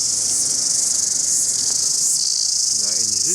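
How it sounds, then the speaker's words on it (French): A loud, dense chorus of large cicadas buzzes steadily on grass in New Zealand's South Island, close and continuous, with a brief faint voice-like sound near the end. "Une grosse cigale, il y en a partout"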